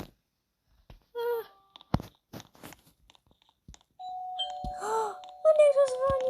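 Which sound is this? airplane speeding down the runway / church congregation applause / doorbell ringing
doorbell ringing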